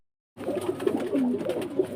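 Pigeons in a loft coo softly and continuously at close range, a low, rolling murmur from birds recently treated and now free of wheezing.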